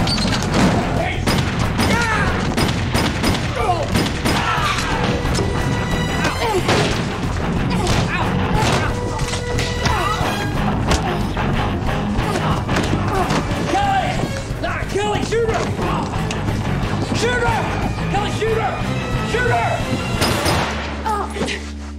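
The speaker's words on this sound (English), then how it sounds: "Kelly, stop shooting" Gunfire rings out in an action movie scene, repeated sharp shots and booms in rapid bursts over a busy mix of shouting voices, crashes and music.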